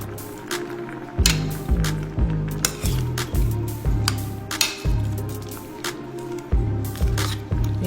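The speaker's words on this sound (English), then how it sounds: "So you add your cornstarch. Get that nice and stir it up." A spoon stirs cornstarch into a vegetable stir fry in a pan, giving repeated rhythmic wet squishing strokes with light clinks against the cookware, close and fairly loud.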